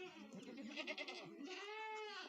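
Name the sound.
goats bleating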